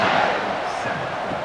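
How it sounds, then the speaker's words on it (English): Steady broad crowd buzz fills a stadium in EA College Football 26 during a Spartans versus Longhorns game, a continuous loud roar with no clear breaks and no distinct individual voices. "this crowd is buzzing after that last score."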